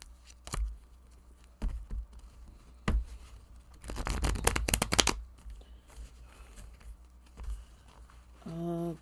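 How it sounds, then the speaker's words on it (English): Tarot cards being shuffled in several bursts, riffling and flicking close by, with a longer dense flurry in the middle and a few isolated snaps around it. "Let's shuffle."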